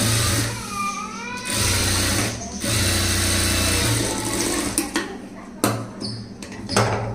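A sewing machine stitches a front gap blouse in bursts of steady, moderately loud running with short pauses between, and a voice talks over parts of it.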